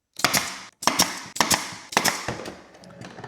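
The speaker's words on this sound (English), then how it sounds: "we will go ahead and just glue that into place and shoot some brad nails in there" A brad nailer drives nails into a wooden Christmas tree topper: five sharp, loud pneumatic snaps, spaced roughly half a second apart, each with a short hiss of air after it.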